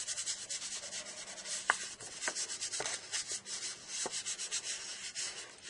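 A soft inking brush is swept lightly back and forth over embossed paper, making quiet, close rubbing strokes in an uneven series with a few sharper taps between them.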